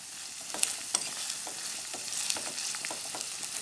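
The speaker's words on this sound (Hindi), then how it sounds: "अब हम अदरक को भी भून लेंगे" Ginger sizzles steadily in a pan over low heat while being stirred for Punjabi-style dal makhani, with soft frying hiss and occasional spoon scrapes and clicks, close and alone.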